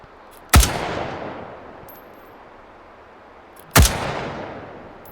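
Two sharp gunshots in the VR shooting game H3VR, fired at pop-up targets on a qualification range, each a loud crack followed by a decaying echo tail, spaced about three seconds apart with a faint metallic ping between them.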